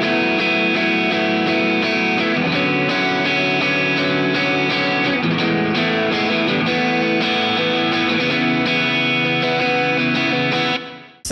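An electric guitar run through effects plays a descending 6-4-1-3 chord progression, with sustained, shimmering chords changing steadily and ringing loud and continuous until it cuts off at the end.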